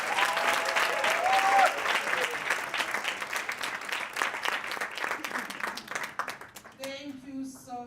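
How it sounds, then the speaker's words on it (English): Conference audience at the 2023 SAWASF International Advocacy Conference breaking into loud, sustained applause that gradually thins out, with a voice speaking over the last moments. "Charmaine, Jumisani, Dr. Renani, can we give them a round of applause?"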